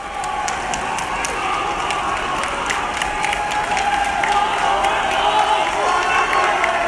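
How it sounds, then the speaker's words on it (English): Hong Kong protesters cheer and applaud in a steady, dense roar, with sharp claps and shouts rising from a large crowd packed close around. "So people are cheering"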